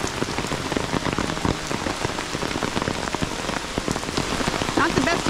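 Steady rain pours down on a surface in Aiken, South Carolina, a dense continuous patter of drops close by, with no voices.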